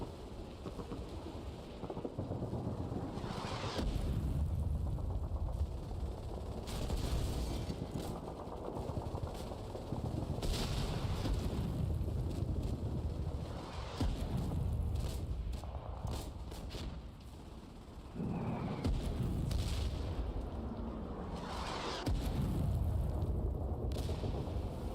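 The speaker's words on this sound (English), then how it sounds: "You're doing creeping barrage." A creeping artillery barrage from the war game Foxhole: continuous deep rumbling blasts and thudding shell impacts roll on without a break, heavy and dense, with no talk over them.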